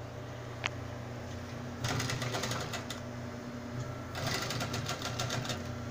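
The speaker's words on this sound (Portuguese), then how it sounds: "lá onde a gente parou de costurar do outro lado, a gente vem, dá uma costuradinha, um retrocesso e vem costurando" A sewing machine stitches a backstitch on a unicorn costume dress, making two quick, rattling bursts of stitches over a low steady hum, with a short pause between them and no voices.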